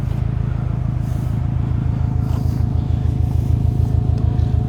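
A 2019 Subaru STI's titanium COBB exhaust rumbles deep and steady at idle, a loud throaty pulsing drone that holds constant throughout.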